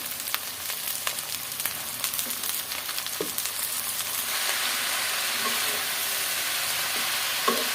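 Chopped, washed mustard greens frying in a home kitchen pan, a continuous close sizzle with scraping stirring strokes, growing louder and hissier partway through.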